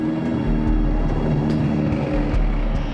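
A BMW M6 GT3 V8 race car rolls slowly back to the pits, its engine a steady, close, low rumble with slight rises and dips.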